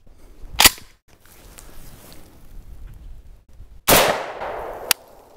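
Gunshots strike a steel target plate outdoors: one sharp crack with a metallic ring early on, then a louder report and ringing impact with another crack just after, with quiet gaps between.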